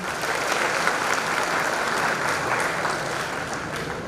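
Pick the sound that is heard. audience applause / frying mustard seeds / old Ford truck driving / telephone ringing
audience applause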